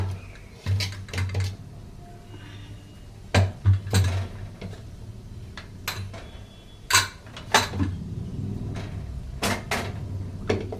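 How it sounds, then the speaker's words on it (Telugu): Cooked rice going into a pan of turmeric-seasoned egg fried rice: sharp metallic clanks and scrapes of a spoon against the pan, irregular and close, with quiet gaps between the knocks. "ఫ్రెండ్స్ ఇప్పుడైతే మనం అన్నం వేసుకుందాము"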